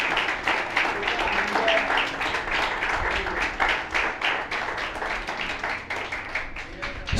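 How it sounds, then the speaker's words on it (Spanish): Church congregation clapping for the Lord during a sermon, a steady rhythmic wash of many hands lasting several seconds, with voices and cheers mixed into the clapping. "Levante sus manos y den un aplauso al Señor."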